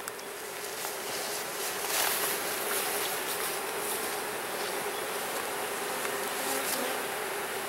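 A dense, continuous buzz of many honey bees rises from an opened hive, steady and close, with no voices over it.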